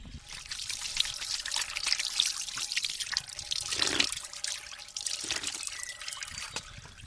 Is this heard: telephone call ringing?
no